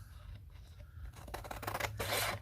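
Scissors snip through paper for a collage journal pocket, a close series of quick crisp cuts that speed up into a rapid rasping run near the end, heard alone without talk.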